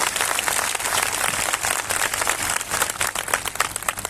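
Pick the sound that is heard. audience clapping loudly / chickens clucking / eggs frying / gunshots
audience clapping loudly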